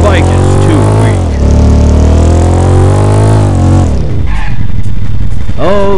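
A motorcycle engine in a bike racing video game revs loudly and up close, its pitch climbing and holding, then dropping away before another sharp rev begins.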